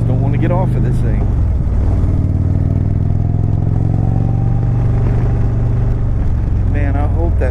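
Indian Chieftain Dark Horse motorcycle with a 116-inch Stage-3 kit rumbling steadily under way, a loud continuous low engine drone throughout, with someone talking over it at the start and end.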